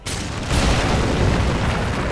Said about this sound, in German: Das sind nämlich Bomben.